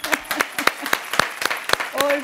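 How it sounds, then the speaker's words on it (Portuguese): On a Brazilian religious TV talk show, a studio audience claps in welcome for a returning guest, a handful of sharp, separate hand claps in loose rhythm, with a voice starting to speak over the final moments. "Salva de palmas para ela."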